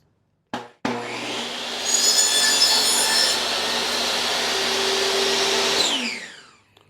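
A table saw cuts a wooden board in a workshop: two sharp knocks, then the blade spins up into a loud, steady whine while it passes through the wood, before winding down to quiet.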